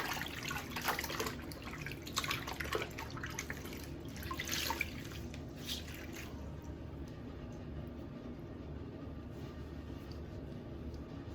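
Running water rinsing a straight razor, a close, steady splashing and dripping for the first six seconds, then easing to a quieter continuous trickle and hiss.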